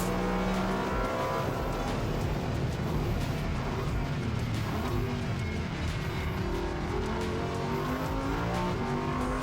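A race car on a circuit accelerates hard in the gears, its engine note climbing and wailing loudly from onboard, with throttle blips and steady high revs running through the whole stretch.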